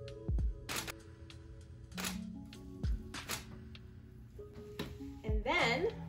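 A few sharp mechanical clicks of a camera shutter, released by toe during an indoor self-portrait at home, spread across several seconds, with rustling and handling noise between them.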